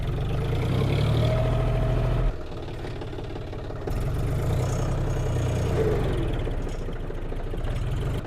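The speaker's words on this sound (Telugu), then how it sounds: "ఇప్పుడు ట్రాక్టర్ స్టార్ట్ చేసిన" A tractor engine runs just after starting, with a loud, steady low rumble and a rapid knocking pulse. It eases down briefly in the middle, then picks back up.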